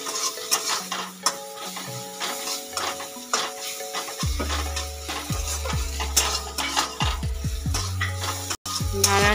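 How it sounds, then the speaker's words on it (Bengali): Whole masoor dal curry being stirred in a pan, with a steady scraping and clinking of a utensil against the pan, close and fairly loud, with no one speaking. "এবার ভালো করে নেড়ে নেব।"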